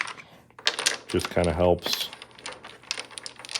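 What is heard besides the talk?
shuffling Micarta dominoes with brass center pins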